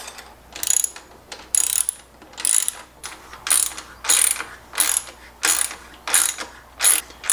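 Plastic RO water filter housings are twisted tight by hand, giving a regular series of short ratcheting clicks and scrapes, about ten bursts spaced under a second apart, close and fairly clear.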